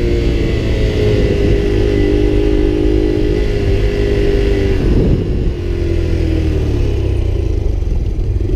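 A Honda Grom motorcycle engine revs hard during a wheelie, a loud, close, continuous drone whose pitch sags and rises again midway as the throttle and rear brake are worked, with no talking.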